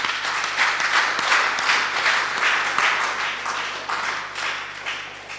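A church congregation applauding the Lord after a sermon, a steady wash of many hands clapping together, sustained and fairly loud before tapering slightly at the end.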